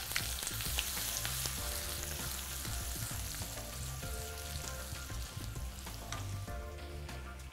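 Ginger and garlic fry in a pan with a steady, close sizzle and crackle, with occasional stirring scrapes and no talking.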